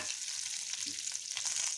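Curry leaves and mustard seeds sizzle steadily in hot oil as they are stirred, a close, continuous crackling hiss with no talking.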